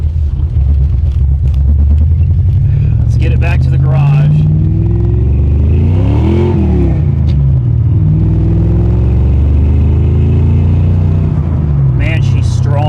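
A 1989 Mustang GT Foxbody with a loud rumbling engine, gears grinding on the shift into first and the exhaust scraping, the motor steady and close throughout while someone talks over it.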